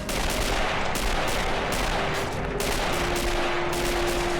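Rifle fire and artillery in the Army Men of War game, a loud, dense, continuous barrage of overlapping gunshots and booming blasts with no pauses, and no voices over it.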